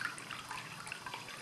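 A thrown and hand-formed ceramic tabletop cat fountain trickles water from four points into its bowl, a soft, steady, close babble of small drips without splashing.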